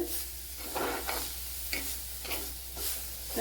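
Grated coconut frying with sautéed onions in a pan for a small-onion curry, a soft sizzle under intermittent stirring and scraping strokes, close and fairly quiet.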